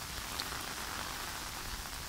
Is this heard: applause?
no